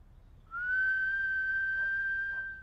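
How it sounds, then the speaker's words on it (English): A person whistles one clear, sustained steady tone that starts after a brief pause and holds alone for about two seconds before trailing off. "Whistle."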